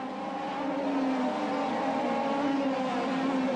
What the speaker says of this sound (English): Wilson from Sano, carving their way already after just 9 laps through the slower traffic.